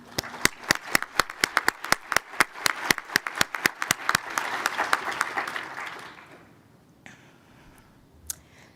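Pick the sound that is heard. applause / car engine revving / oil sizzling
applause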